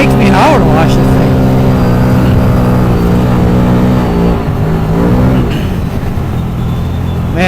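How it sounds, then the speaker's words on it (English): A 1000cc turbocharged Can-Am Maverick side-by-side revs loudly with rising and falling engine pitch and a turbo whistle, close and continuous, with a brief dip midway before climbing again. "This is a 1000cc machine. It's got a turbo in it. You can hear it whistle back there."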